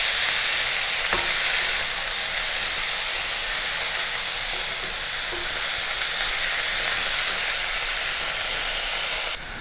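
Mustard greens frying in a pan with salt and turmeric, a dense continuous hiss and sizzle throughout, with a few faint stirring knocks, close and steady with no talking.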